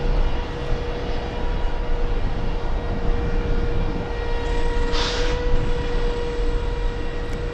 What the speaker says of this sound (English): Oh, this is the packed Cessna.